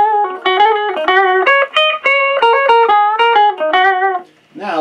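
An electric guitar played through a Crate Vintage Club 20, a 20-watt single-ended Class A tube amp, on a clean setting for country and blues: a loud, close phrase of picked single notes and double stops that ends in a brief scrape.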